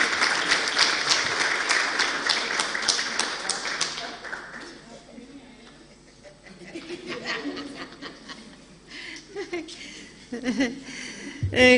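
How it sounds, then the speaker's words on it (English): Audience applause for Ms. Bam at a Mandela University partnership event with the Dr Brigalia Bam Foundation, a loud dense burst of many hands that fades within a few seconds into quieter room noise and murmuring. "Let's give Ms. Bam a round of applause, please."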